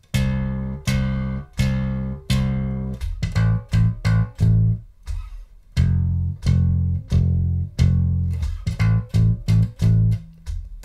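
Electric bass plays the opening section of a song, a run of short plucked notes in a skipping, syncopated rhythm with steady quarter-note stretches, close and clear with no other instruments or talk.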